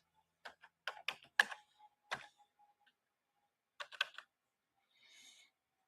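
A few short flurries of keystrokes on a computer keyboard, close by and quiet, with gaps of silence between them.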